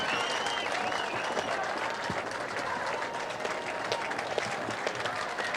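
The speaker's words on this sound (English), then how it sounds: "You hear the crowd clapping" A crowd at a high school football game claps steadily after the final whistle, a dense continuous patter of applause with no break, heard from within the stands.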